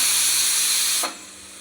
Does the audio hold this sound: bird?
no